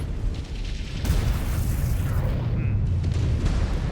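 Missile explosions in MechWarrior 5: Clans, a loud continuous rumbling boom with heavy low-end blasts layered together, someone talking over it.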